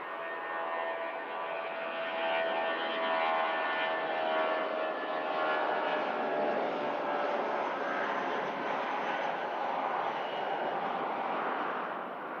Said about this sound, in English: next aircraft out, British Airways shuttle service